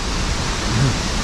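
A waterfall in Venezuela's Gran Sabana heard as a steady, broad wash of rushing water, loud and unbroken from start to finish.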